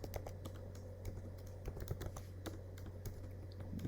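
Fingers type code briskly on a computer keyboard, a steady patter of close, light key clicks with occasional sharper taps, set against a low constant hum and without any speech.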